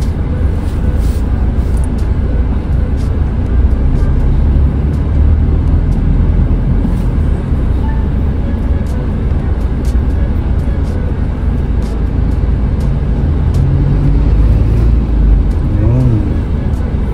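A car driven by Papa, heard from inside as a steady, loud road and engine rumble with tyre noise throughout, no talk.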